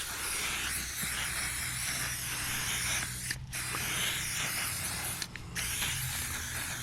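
Aerosol silicone spray misting over the tank and plastics of a KTM 500 motorcycle, a long continuous close hiss with two short pauses between bursts.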